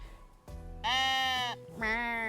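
A sheep in the farming video game Greenhearth Necromancer gives two clear, nasal bleats, the first longer and the second following after a short pause, heard alone over soft game ambience.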